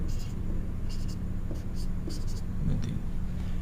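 A pen writes numbers while a reasoning problem about clock error is worked out on paper, producing close, scratchy bursts of strokes over a low steady background hum, with no talking.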